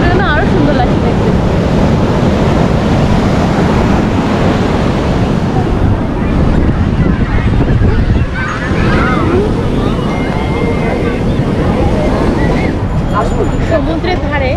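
Sea waves break and roll at Puri beach in a loud, continuous surf roar with wind buffeting the microphone and faint voices of people nearby.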